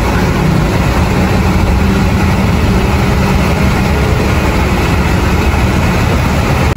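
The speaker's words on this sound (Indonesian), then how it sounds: "ini di sini namanya bentor atau becak motor, yang mana untuk penggeraknya itu motor yang telah dimodifikasi" Engine of a bentor, a motorcycle modified into a rickshaw, on a busy road by a market in North Sulawesi, a loud, unbroken rumbling drone heard close up.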